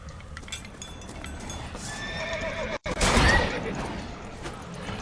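A horse whinnies loudly nearby in The Witcher 3: Blood and Wine, followed by a burst of hoofbeats and rustling, over a steady game background.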